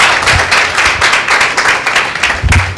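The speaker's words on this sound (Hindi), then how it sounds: "एक जोरदार ताली देते हैं परमेश्वर के नाम की महिमा के लिए" A church congregation at a Sunday meeting breaks into loud, sustained applause, many hands clapping together in a dense, continuous roar close to the microphone.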